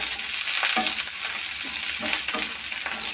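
Green chillies fry in a pan with a steady close sizzle, while a spoon stirs and scrapes through it in several light strokes.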